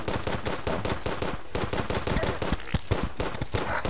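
The Twins boss fight in Terraria with rapid gunfire and boss shots, a dense, loud barrage of fast repeating bursts that continues without pause, with no talking.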